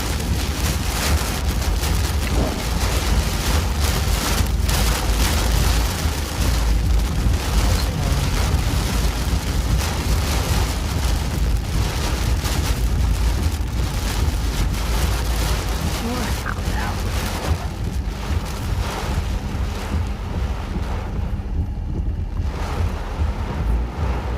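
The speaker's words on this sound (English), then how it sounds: "Ooh, it's getting real windy up here again." Strong wind roars and buffets the microphone without a break during a tornado-warned storm in Kentucky, loud and rough throughout.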